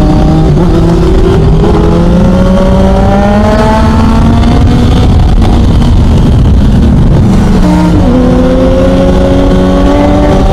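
Triumph Daytona 675R sport motorcycle ridden on a group ride, its engine loud and close, revving up and down through gear changes with rising and falling pitch over steady road and wind noise.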